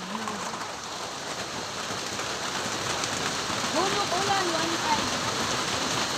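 Steady rain falls and patters on surfaces outdoors, a dense hiss that swells slightly, with faint bird calls and a brief voice underneath.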